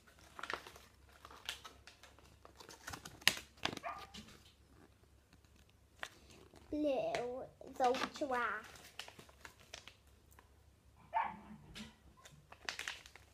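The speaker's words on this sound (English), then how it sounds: "Those are just my dogs." Dogs bark and yip in short, sharp bursts in the background, clustered around the middle of the stretch and fairly faint, while a person talks nearby and something crinkles close up.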